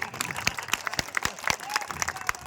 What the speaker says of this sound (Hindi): उधर हमारे नौजवान खड़े हैं, बारी बारी से ताली बजाते हैं